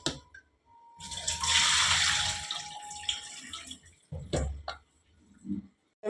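Water splashes and pours close by for a few seconds, with sloshing and a few dripping, squishy sounds as homemade butter is rinsed in water.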